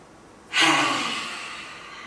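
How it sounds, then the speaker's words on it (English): A child doing a yoga breathing exercise at home pushes out one forceful exhale after a quiet in-breath, a close, loud, breathy rush that fades gradually. "when they've reached the top of their breath, they let their volcano erupt and out again"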